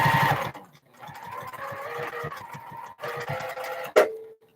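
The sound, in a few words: sewing machine stitching quilt blocks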